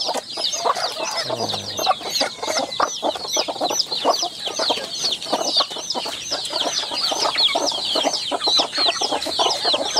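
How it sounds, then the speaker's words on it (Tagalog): A hungry free-range native hen, newly hatched chicks nearby, clucks rapidly and continuously while eating, with close, busy pecking sounds all along. "Gutom na gutom ang inahing manok"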